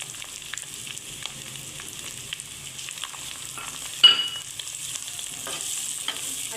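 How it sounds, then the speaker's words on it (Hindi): Onions hiss gently in a pan with garlic ginger paste for a homemade potato curry, a soft, steady sizzle with a brief louder clatter of stirring midway. "अब हम इसके अंदर प्याज ऐड करते हैं।"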